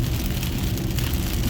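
Wet hail pelts the outside of a car, a dense, steady drumming patter with a heavy low rumble, close and continuous, with no one talking.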